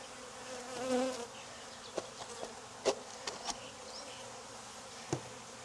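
Honey bees buzz around an opened hive frame, a faint steady hum that swells briefly near the start, with a few sharp clicks and knocks of handling scattered through.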